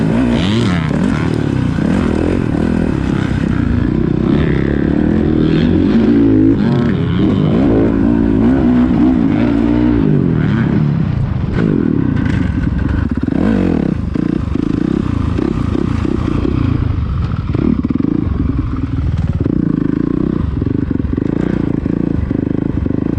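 A dirt bike ridden hard nearby, its engine revving and roaring loudly and continuously with rising and falling pitch and some clattering, and no voices.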